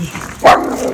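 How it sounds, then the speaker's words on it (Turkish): A single sharp dog bark rings out close by, with faint background noise before and after. "Havlama insanlara."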